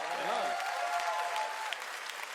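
A gala audience applauds the hosts, steady clapping spread across the room, with a voice and tonal sounds briefly rising over the start.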